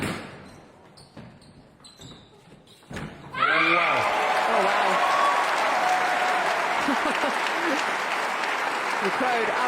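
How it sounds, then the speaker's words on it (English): Crowd at a squash match, the London Squash Classic 2024 final, bursting into loud, sustained applause with cheers after quiet court sounds and commentary, the clapping holding steady under a commentator's voice. "The crowd absolutely loving this"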